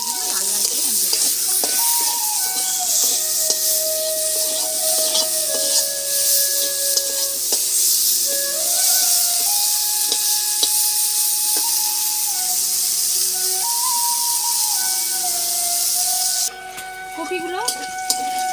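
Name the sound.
cauliflower frying and being stirred in a pan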